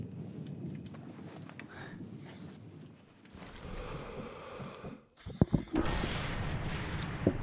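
Gunfire rings out in the video game Sniper Elite 3. A burst of sharp reports lands near the middle and is followed by a louder, sustained blast of noise, all of it faint and set against a windy, rumbling battlefield background.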